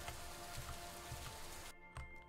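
Steady rain falling in the game Superliminal, a continuous close patter of drops that cuts off abruptly near the end, leaving only a few faint ticks.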